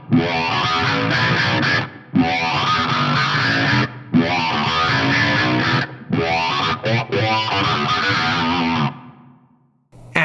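A guitar through a Fractal FM3 with an envelope filter added to an octave effect plays loud, wah-like phrases in four bursts with short gaps, then fades out near the end.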